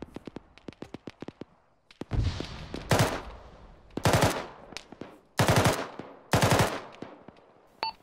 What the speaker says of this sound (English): Tower 6 up the hill is shooting too